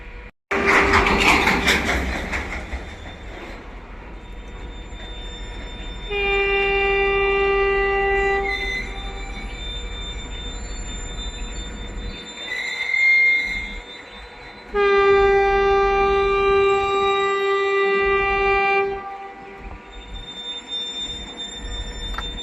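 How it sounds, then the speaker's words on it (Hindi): The Rani Kamlapati Vande Bharat Express overtakes on an Indian railway line, sounding long, loud, sustained horn blasts in two main bursts over a rushing rumble of wheels and a brief squeal as the train passes close by. "ओवरटेक करने आ रही है रानी कमलापति वंदे भारत एक्सप्रेस।"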